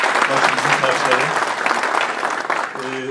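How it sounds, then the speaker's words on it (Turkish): Audience applause for the women guests at a gathering, dense steady clapping that fills the whole stretch with a voice carrying over it. "Sizden büyük alkış istiyorum onlara."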